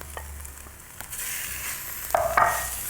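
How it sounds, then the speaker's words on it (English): Porcini mushrooms cook in a pan for suppli al telefono, giving a soft, steady sizzle with a few scraping stirs close by and no talk. "And we're just going to let this cook up a little bit here."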